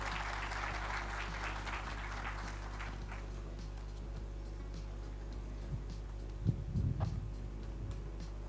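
Steady applause from a crowd at a foundation-laying ceremony for a multipurpose event hall in Zeytinburnu, a continuous wash of clapping that gradually thins out, with a few louder knocks near the end.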